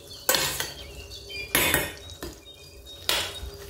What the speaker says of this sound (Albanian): dhe kështu që vendosa që ta përzijej